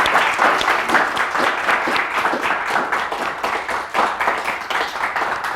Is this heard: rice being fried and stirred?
no